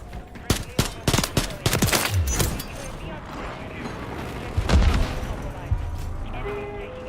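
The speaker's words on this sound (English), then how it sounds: "Enemy precision airstrike." Call of Duty Warzone precision airstrike: a burst of sharp, loud explosive cracks and blasts in quick succession, then a heavier boom near the middle, with a rumbling low tail and game noise behind.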